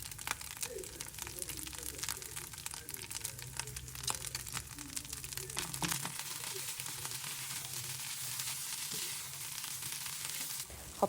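Rice for fried rice sizzles and fries in a pan, a dense continuous crackle with occasional scraping stirs, close and steady, and some quiet talking is heard beneath it.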